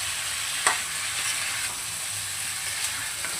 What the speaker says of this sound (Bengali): ভালো করে ফুলকপিটাকেও মশলার সাথে কষিয়ে নেব।